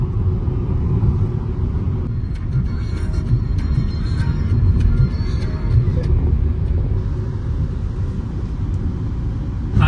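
A car cruising along a national highway, heard from inside as a steady, loud low rumble of engine and road noise with no pauses.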